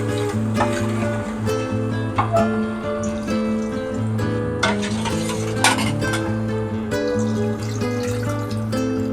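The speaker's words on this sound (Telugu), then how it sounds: "పులుసు వేసాక ఒకసారి ఇలా కలిపేస్తాం." Korameenu fish curry is stirred in a clay pot over a fire outdoors in village style, with a spoon scraping and knocking against the pot in irregular strokes over a continuous low background hum, close and moderately loud.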